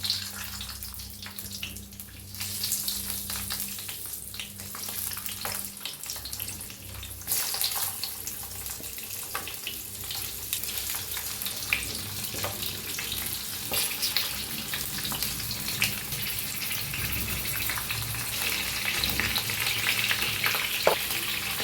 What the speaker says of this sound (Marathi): आता ह्या मिरच्या भरलेल्या ह्याच्यात सोडून घेऊया।